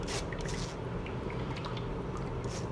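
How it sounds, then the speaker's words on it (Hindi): A paste of green chili, coriander and mint is pressed and squeezed, giving close wet squishing and soft dripping liquid sounds in a steady stream. "देखिए हम प्रेस करते जा रहे हैं"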